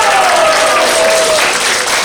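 An audience at a world women leaders' policy symposium applauds, producing loud, dense, steady clapping that fills the whole stretch without pause.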